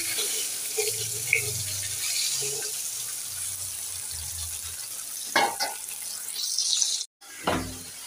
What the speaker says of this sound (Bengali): রান্না করতে পাঙাশ মাছ ভাজি করছি